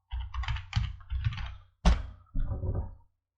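Computer keyboard typing while a word is entered into a spreadsheet cell: several close, clattering bursts of keystrokes separated by brief pauses, with one sharper key hit in the middle.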